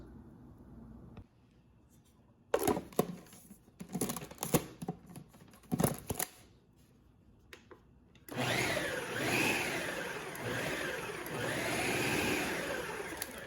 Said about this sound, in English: Just barely mix in the vanilla extract and the egg replacer.